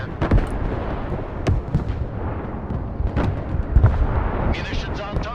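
Munitions exploding on target in the video game Broken Arrow: booming explosions and sharp blasts go off in rapid bursts amid a dense rumbling battle din, with a voice talking faintly in the mix.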